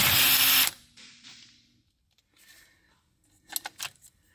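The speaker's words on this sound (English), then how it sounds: "Now I'm going to use socket 19 in the size 19 millimeter to remove that nut." A 19 mm socket wrench works a nut off the steering shaft of a Toyota during airbag clock spring replacement: a loud, harsh metallic burst up front, then quiet, then a few sharp clinks and rattles near the end.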